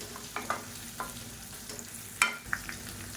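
Lump asafoetida crackling in hot oil for sambar, a faint steady sizzle with a few sharp pops and light stirring clinks scattered through, close and without voices.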